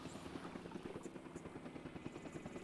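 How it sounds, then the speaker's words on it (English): Helicopter rotor chop in the Jurassic World Evolution 2 video game, a steady rhythmic thudding that carries on at even volume throughout with no voices. "I better wait until that helicopter's took that one back to base"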